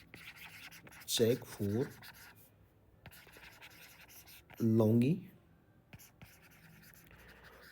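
Chalk or marker scratching on a board during a civil engineering lesson on circular RCC columns, in a few short strokes between stretches of a teacher's speech.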